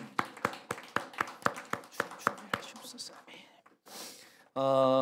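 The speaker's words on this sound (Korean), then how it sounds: "우리 주님께 감사와 영광의 박수를 올려드리기 원합니다" In a Korean church Sunday service, a congregation claps about nine sharp, evenly spaced beats, then the rhythm breaks into scattered softer taps and murmurs before a sustained tone begins.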